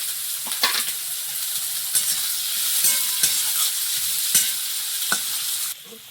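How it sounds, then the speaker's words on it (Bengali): Onions fry in a wok with a bright, constant sizzle while a spatula scrapes and clacks against the metal in repeated stirring strokes. "পেঁয়াজটা ভাজা হয়ে গেছে, একটু আদা রসুন বাটা,"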